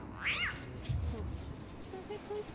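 A pet cat meows once in a short, rising call, clear and close, with faint background noise in a home setting.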